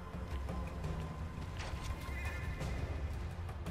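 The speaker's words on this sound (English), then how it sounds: "And there's horses here, too." Horses in the video game ARK neigh and whinny against a low rumbling game backdrop, the calls moderately distant and layered over faint movement sounds, with no talking.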